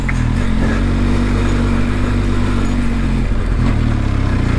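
Benelli TRK 502X adventure motorcycle engine labouring up a steep hill climb in the Pyrenees Ranges, a loud, steady low drone close by with a brief dip and recovery near the end.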